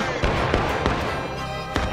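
Artillery fires in the video game War of Rights during a line battle event, with several dull booming reports at uneven intervals under a continuous wash of background noise.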